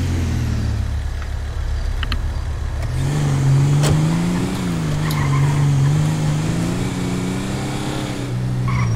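A Ford F-150 truck in the video game GTA 5 drives and skids, its engine droning loudly and rising in pitch, with tires squealing and a few sharp knocks over the steady roar.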